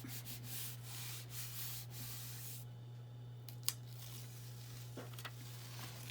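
Steady dry rubbing and scrubbing against a surface to lift paint, a continuous close abrasive hiss with a few small knocks and no talk.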